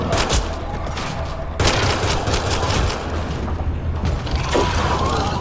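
Dense, sustained gunfire in the video game Mass Effect Andromeda, with rapid overlapping shots and mechanical clatter in a loud, continuous battle din and a sharp surge partway through.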